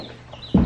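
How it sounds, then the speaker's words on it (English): Backyard chickens give a short, close burst of clucking at the very end, after a quiet stretch of faint room noise. "Beansters, you can't eat our chickens"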